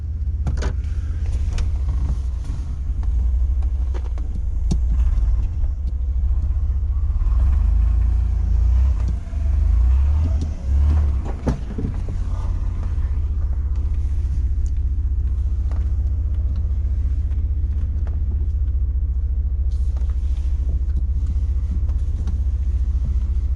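A 1998 GMC Jimmy driving off-road in 4 low, a loud continuous low engine and drivetrain rumble with bumps and rattles, no talk.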